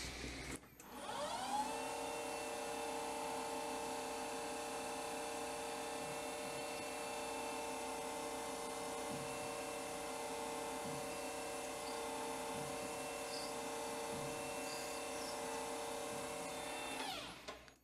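A lathe drilling a small hole right through a flux capacitor plunger part, giving a steady, sustained motor whine with a bright, even tone that holds unbroken from start to finish.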